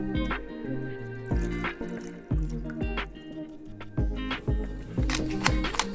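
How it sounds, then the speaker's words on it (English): Water, fish sauce and lime juice added into a cooking pan for Thai lime steamed fish, heard as a series of rhythmic drips and splashes with low resonant plops, close and clear with no talk. "Add water, fish sauce,"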